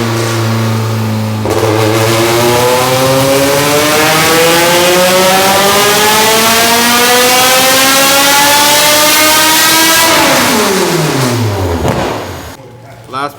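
A 350 hp naturally aspirated Honda Civic with individual throttle bodies roars loudly on a dyno, its engine note climbing steadily through a long pull before dropping sharply off throttle near the end.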